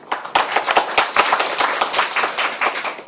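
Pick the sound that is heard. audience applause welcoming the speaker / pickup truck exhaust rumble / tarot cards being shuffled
audience applause welcoming the speaker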